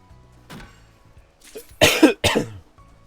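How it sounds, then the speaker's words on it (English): A streamer with acid reflux coughs, starting with a soft hack and building to a loud burst of two or three harsh coughs close to the mic, then fading to quiet throat noise. "If I cough a lot, I'm sorry."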